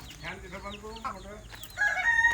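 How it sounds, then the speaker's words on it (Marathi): Chickens cluck in quick bursts while a rooster crows loudly near the end, with farmyard noise around them. "इकडे तुम्ही कोंबड्या बघत असाल"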